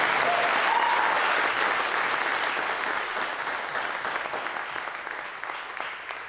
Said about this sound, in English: give Ezra a round of applause, please